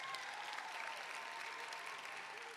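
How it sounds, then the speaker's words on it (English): Graduating high school students at a commencement in a performing arts center applaud themselves, a steady, even wash of distant clapping filling the hall. "Give yourselves a round of applause."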